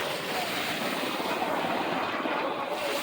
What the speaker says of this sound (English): C5 Galaxy out there circling around. It's the largest plane in the world.